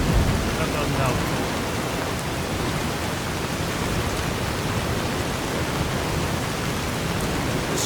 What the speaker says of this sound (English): The storm is really loud.